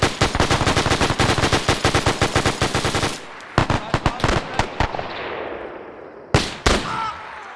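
Rapid automatic gunfire from AI soldiers in a WW2 video game, a loud, fast burst of machine-gun shots followed by scattered single cracks and short bursts with echoing tails.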